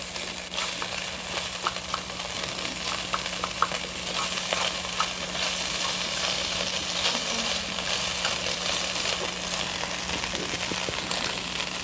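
A stir-fry sizzles steadily in a pan, a continuous close hiss and crackle with scattered light scraping from stirring, no voices over it.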